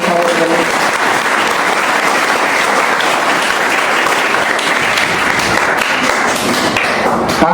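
A hall audience applauds a speaker on Indian partition history with dense, loud, continuous clapping that holds steady throughout.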